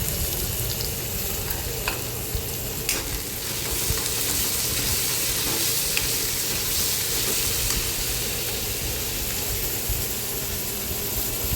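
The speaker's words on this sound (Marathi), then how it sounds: "कांदा परतून झालं याच्यामध्ये टोमॅटो घातला चवीनुसार मीठ घालून घेते" Tomato frying with sautéed onion and salt in a pan, a steady close sizzle with occasional faint clinks of stirring, continuous and fairly loud, no talk.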